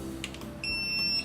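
An Arteck 2000A portable car jump starter sounds its reverse-polarity warning when the clamps are put on backwards: a steady, loud, high electronic beep tone lasting about half a second over a low background hum.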